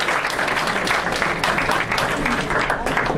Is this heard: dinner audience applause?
yes